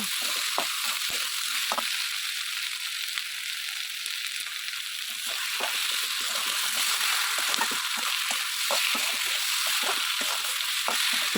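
Ginger-garlic paste frying in a hot pan, a steady loud sizzle with frequent scraping and stirring clicks from a spatula, close up and with no talking.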